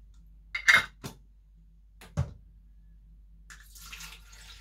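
Water splashes and trickles into a container for mixing a hair remedy, coming in short separate pours and drips with quiet pauses between them, then a softer trickle at the end.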